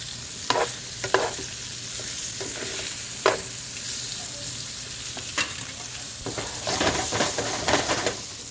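Meat browns in a pan over high heat for burros, giving a steady close sizzle broken by sharp scrapes and knocks of stirring, louder toward the end, with no talking.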